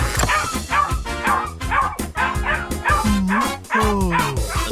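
Cartoon dog in a 3D animated children's show barking, yipping and growling in rapid, loud bursts, with whimpering pitch slides toward the end and no talk.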